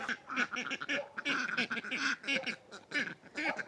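Several ducks quack repeatedly in a garden, a busy chorus of overlapping calls close by that keeps going with only brief pauses.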